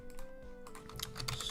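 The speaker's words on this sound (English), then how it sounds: "just fucking slap my keyboard" Quick bursts of computer keyboard typing, several rapid clicky keystrokes close by, a brief flurry with no talk.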